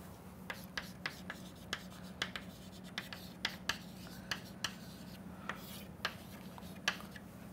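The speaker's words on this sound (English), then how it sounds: "let me just write it here" Writing on a board during a fluid flow modelling lecture gives faint scratchy strokes and sharp taps in an irregular rhythm, quiet in a room with a low background hum.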